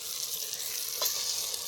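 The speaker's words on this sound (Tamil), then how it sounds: "அடுத்தது சிக்கன். எல்லா சிக்கனையும் அள்ளி போட்டுக்கிறேன்." Chicken pieces added to a hot pan sizzle steadily in an outdoor village-style cook, a bright continuous frying hiss with a brief stirring scrape midway.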